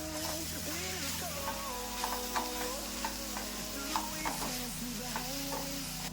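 Coriander powder, turmeric and cumin powder being stirred into frying vegetables in a pan, a continuous sizzle with repeated scraping and clinking of a spoon against the pan.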